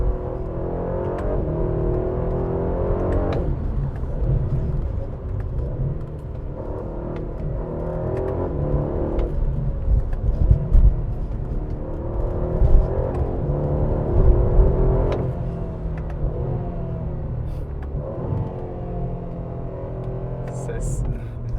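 An Aston Martin DB12 accelerates from inside the cabin, its engine rising and falling in a steady, rising drone with gear changes, loud and close, while a person talks over it.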